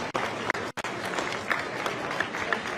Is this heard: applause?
yes